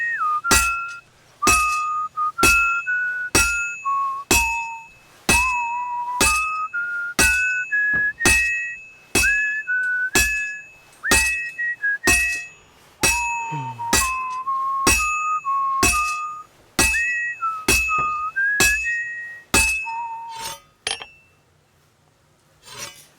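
A whistled melody from the video game Kingdom Come Deliverance 2 rises and falls steadily, played alongside a regular beat of sharp, glassy clinks that runs to the end.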